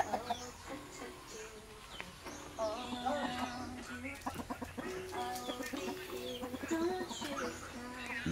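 Fighting roosters kept at a house in Upper Kwatro, Baybay City, Philippines, clucking and calling in repeated short bursts close by, with other fowl and a voice mixed into the yard noise.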